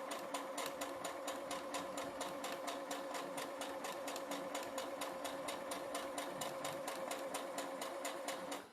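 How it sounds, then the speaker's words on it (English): A sewing machine stitches half-square triangle quilt pieces along a line, a fast, even rhythmic clatter running steadily and close by, without talking. "Sew all the way down my line."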